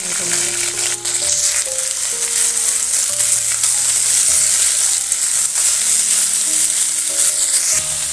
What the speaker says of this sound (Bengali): আর কড়াইটা বসিয়ে দেবো, আলু আর মটরশুঁটি দুটো একসাথে দিয়ে ভেজে নেবো।